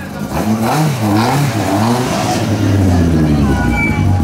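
A Citroen C2 rally car, class RC3, revs its engine repeatedly at a rally's ceremonial start, the pitch rising and falling in loud, close surges, with an announcer's voice over the top.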